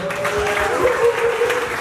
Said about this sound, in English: Can we give another round of applause for IRKO?